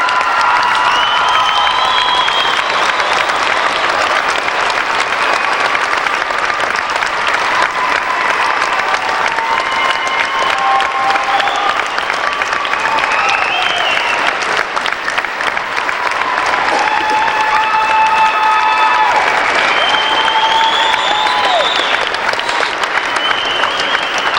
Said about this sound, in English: this team needs a standing ovation from this audience for the opportunities they have provided FFA members throughout Iowa. Let's give them a applause.